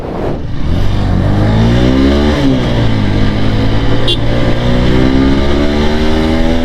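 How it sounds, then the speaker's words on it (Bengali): A TVS Apache 160 4V motorcycle engine revs up loudly in first gear and climbs steadily in pitch as it accelerates, with a short dip before pulling higher again. "বাইকটার র পাওয়ারটা দেখেন আমি এক গিয়ারে দিয়ে ধরেন এক গিয়ারে দিলাম"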